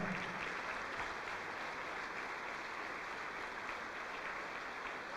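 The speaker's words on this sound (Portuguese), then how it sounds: "Vamos aplaudir, igreja." A church congregation applauding, steady dense clapping that holds evenly throughout at a moderate distance, with no voices rising above it.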